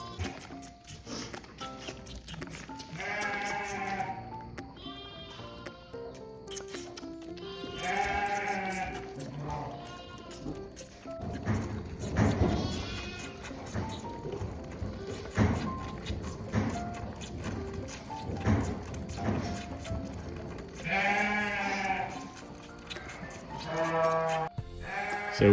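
Young lambs bleat repeatedly in a pasture, several overlapping cries rising and falling close by, with a constant busy background and occasional pattering throughout.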